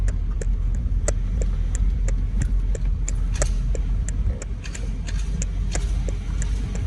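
Sharp, regular clicking from a car driving through the Montrose neighborhood of Houston, Texas, repeating steadily at close range over a constant low road and engine rumble, with no talk.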